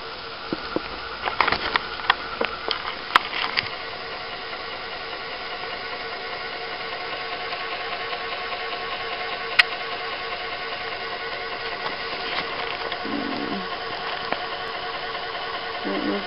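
A Fann 35 viscometer runs at 300 RPM, its motor giving a steady, even mechanical hum throughout, with occasional light clicks and rattles nearby.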